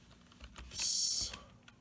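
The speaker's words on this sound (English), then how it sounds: "Let's just click on there and type in" Brief burst of typing on a computer keyboard, a quick cluster of light, close key clicks lasting about half a second in an otherwise quiet room.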